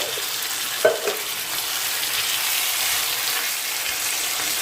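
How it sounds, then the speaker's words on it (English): Tinned chopped tomatoes tipped into a hot frying pan for a pork and chickpea stew land with a brief splash, then give way to a steady, loud hiss of sizzling with no talk. "I have here a tin of chopped tomatoes. So in that goes."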